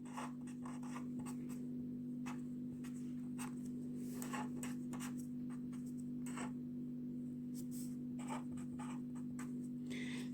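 A pen scratches softly across paper in short, irregular strokes as radius measurements are written down, faint and close, over a steady low electrical hum.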